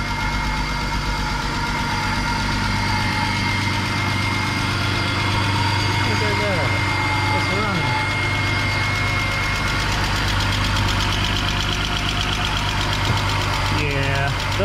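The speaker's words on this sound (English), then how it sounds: "lifter tick." Car engine idling with a lifter tick in a project drift car, a loud steady rumble with a fast metallic ticking running through it, while people talk nearby over the engine.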